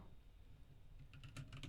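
Quick bursts of keystrokes on a computer keyboard arrive late in the moment, a short cluster of close clicks over a low background rumble.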